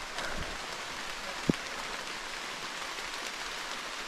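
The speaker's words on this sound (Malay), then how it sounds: "Hujan makin lebat" Steady heavy rain hiss on a hike up Bukit Choroco, even and continuous, with one brief sharp knock partway through.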